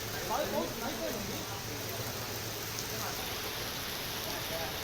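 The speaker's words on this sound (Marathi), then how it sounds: "कोल्हापुरात मुसळधार पावसानं हजेरी लावलेली आहे" Heavy night rain falls in Kolhapur, a steady broadband hiss of downpour holding at an even level throughout, with faint indistinct sounds briefly near the start.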